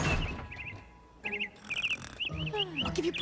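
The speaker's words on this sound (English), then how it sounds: "Bird flies in the window." A bird darting in through a window in the animated show Princess Spike, heard as bright chirps and tweets rising over busy cartoon sound effects and music, several quick calls clustered near the end.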